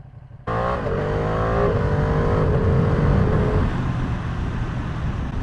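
A Ducati motorcycle starts up loudly and pulls away, its engine note climbing through gears with steady throttle, then settles into a constant road roar as the bike is ridden on the street.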